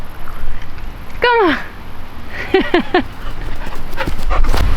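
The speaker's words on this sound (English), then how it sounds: "we're in the mini dog park, so Kobo can pee and poop" A small dog gives a few sharp yips and whining barks at a mini dog park, one clear cry followed by a quick burst of three or four, close by over faint outdoor background noise.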